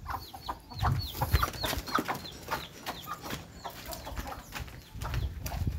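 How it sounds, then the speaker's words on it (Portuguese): A rooster being chased in an effort to catch it, clucking and squawking in repeated short agitated bursts over rustling and scuffling movement, near and fairly loud, with no speech. "É difícil pegar esse galo, gente."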